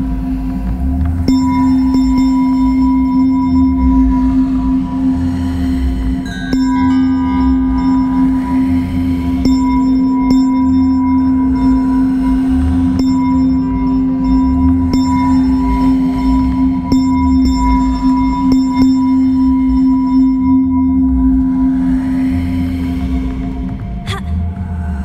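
A bell in the video game Hogwarts Legacy holds one sustained, steady tone for about twenty seconds over a low droning background, loud and close, then cuts off near the end.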